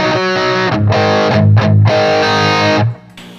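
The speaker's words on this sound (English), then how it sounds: "here's the guitar full up" A loud, distorted electric guitar rings out in full chords, cutting off briefly twice before a final chord drops away near the end.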